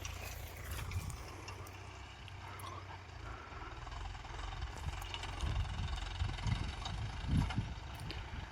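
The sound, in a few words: Mahindra Yuvo 575 tractor engine running while plowing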